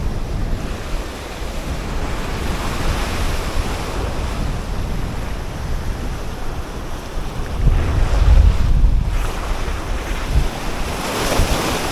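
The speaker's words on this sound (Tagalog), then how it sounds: "Malakas kasi ng alon eh." Strong sea waves surge against the shore in monsoon weather, a dense, loud, continuous wash of surf with wind noise and a heavier swell building near the end, no talking.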